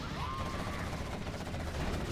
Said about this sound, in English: Artillery coming in on this position.